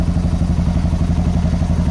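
A 2015 Suzuki DR 650 motorcycle fitted with a GSXR 1000 exhaust runs close by, its engine thumping in a fast, even low pulse that stays loud and constant throughout.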